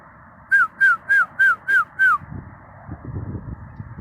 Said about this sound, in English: Y'all hear them birds chirping?